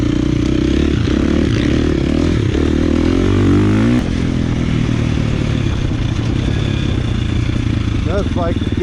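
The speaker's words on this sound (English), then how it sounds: "That bike gets up and hauls." A KTM 450 EXC dirt bike fitted with an aftermarket power bundle is ridden hard. A loud, close engine drone climbs through the revs with a rough, buzzy note and some clatter, continuous throughout.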